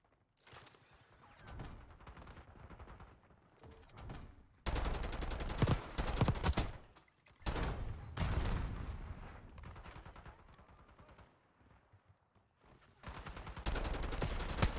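AK rifle fire in Black Ops 6, long loud bursts of automatic shooting in several heavy stretches, with quieter lulls of game ambience between them.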